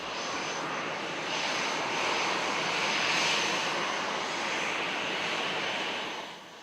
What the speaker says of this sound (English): After not even a month in office, Prime Minister Modi's plane landed